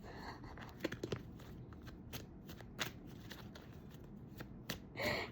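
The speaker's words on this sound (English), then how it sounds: "I have to shuffle a little bit more than what I normally do" Tarot cards are shuffled up close in soft, repeated riffles and flicks, quiet and steady, with a few sharper snaps along the way.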